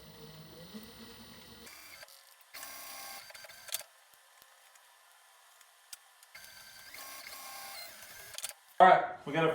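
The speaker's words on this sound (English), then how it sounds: "We're gonna be at the sewing machine for a while today." A sewing machine stitching zippers into fabric runs in short bursts of rapid mechanical whirring separated by quiet pauses, close up, ending with a louder clatter.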